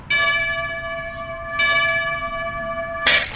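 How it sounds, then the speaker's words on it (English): Liberty Bell cracking in the trivia video game You Don't Know Jack: two clear, ringing bell strikes, each left to sustain, then a short, harsh crunching burst at the end. "That sound you heard was the Liberty Bell cracking in Philadelphia."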